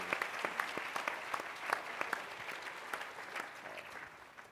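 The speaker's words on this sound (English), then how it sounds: "All right, now you can clap." An audience claps together at a panel discussion event, a dense burst of applause that starts strong and slowly thins out over several seconds.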